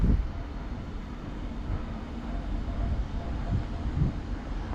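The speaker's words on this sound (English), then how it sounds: "The train now approaching is going to Norwich" An East Midlands Railway train bound for Norwich approaching Alfreton station, a steady low rumble with faint rolling and swelling noise throughout.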